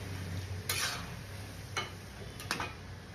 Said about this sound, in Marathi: बघा मस्त जरा अशाच क्रिस्पी भाजून घ्यायच्या गोल्डन